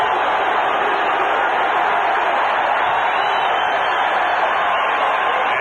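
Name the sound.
football stadium crowd cheering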